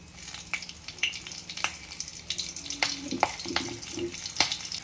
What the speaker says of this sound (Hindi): तेल गरम हो चुका है अब हम इसमें डालेंगे जीरा